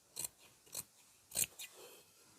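Fabric shears snip through quilted vest fabric in four or five crisp, quiet cuts spaced unevenly, each a short sharp crunch close to the listener.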